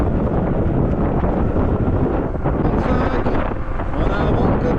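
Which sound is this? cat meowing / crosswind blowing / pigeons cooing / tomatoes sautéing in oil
crosswind blowing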